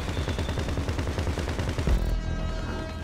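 Rapid, dense gunfire from the video game GTA, a steady stream of close, loud shots that runs without pause for about three seconds.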